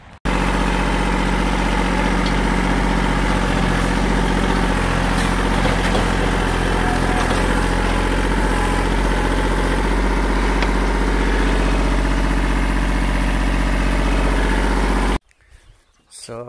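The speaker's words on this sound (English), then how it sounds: "I'll get the tractor and get to work." A steady, loud low tractor engine rumble idles continuously for about fifteen seconds, then cuts out abruptly, leaving near silence.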